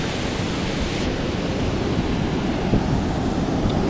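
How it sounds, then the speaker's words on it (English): Ocean surf rolling onto a beach in Costa Rica, a steady broad wash of breaking waves with a slight swell near the end, close and continuous with no voices. "we got waves going on right here"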